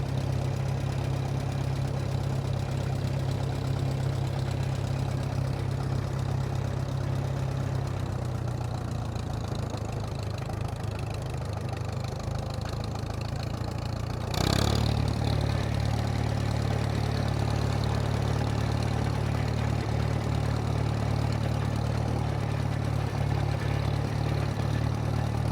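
A Farmall M tractor with a worn, smoking engine idles steadily in a deep, low, even chug for the whole stretch, with a brief bump in level about midway and no one talking.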